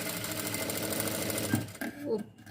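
Sewing machine stitching a small V-shaped seam on a blouse dori tie-string, a steady rapid mechanical whir for about two seconds, close and fairly loud, then slowing and stopping.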